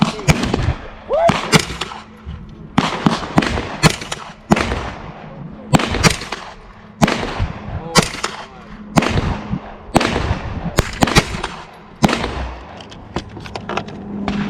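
Gunshots ring out at the Calverton shooting range on Long Island as targets are fired upon, a long run of sharp, loud reports in irregular bursts with short pauses between volleys.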